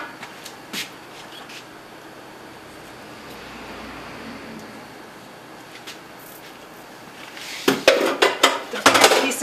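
Dishes being set into a kitchen sink during apple pie prep, quiet background hiss, then a cluster of clattering knocks and clinks toward the end.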